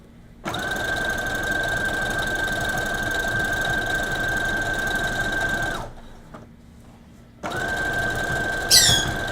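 A sewing machine running an overlock stitch, with a loud, steady mechanical whir and hum that runs for about five seconds, stops briefly, then starts again with a short squeak near the end.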